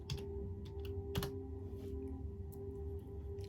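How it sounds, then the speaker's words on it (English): Computer keyboard being typed on, a few soft scattered keystrokes over a steady low background hum, fairly quiet and without talk. "We'll go type in Abib."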